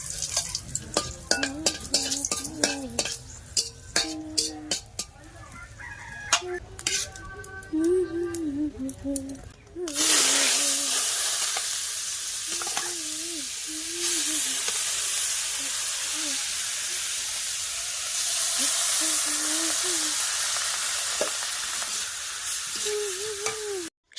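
Leafy greens cook in a wok over a fire outdoors, a loud steady sizzle and steamy hiss after a sudden burst, with occasional stirring scrapes; someone talks and hums during the first half.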